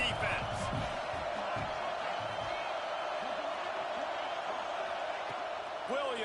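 Football stadium crowd roaring steadily behind the home defense on a big third down, a dense, sustained wash of cheering and shouts with no gaps across the whole stretch.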